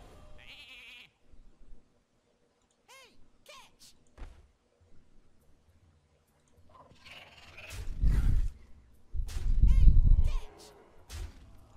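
A short sheep bleat plays in the Hearthstone card game as a Mage's Polymorph turns a minion into a sheep, with quiet game effects before and louder thumping impact sounds a few seconds later.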